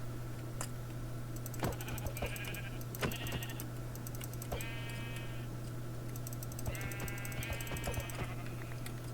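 Several short sheep bleats from a Minecraft game sound out in separate bursts amid a steady low hum and soft clicking keyboard taps.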